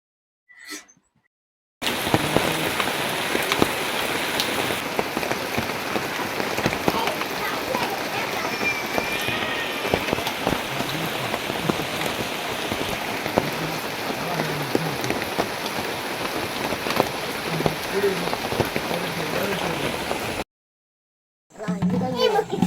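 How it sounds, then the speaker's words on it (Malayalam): Light afternoon rain falls steadily outdoors, a dense even patter that runs for most of the stretch, with children's voices faintly audible beneath it and brief quiet gaps at the very start and end. "ഉച്ച കഴിഞ്ഞപ്പോൾ മഴയൊക്കെ ചെറുതായിട്ട് മൂടി തുടങ്ങി"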